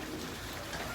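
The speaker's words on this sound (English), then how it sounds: "Little light rain shower blowing through right now." Light rain shower falling near a ferry landing on Caladesi Island, a steady soft hiss of drops spread evenly through the moment with no talking.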